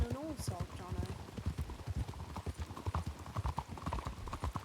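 In the Red Dead-based roleplay game WildRP, horse hooves clip-clop at a steady trot, close and clear, with a brief whinny near the start. Someone talks over the hoofbeats.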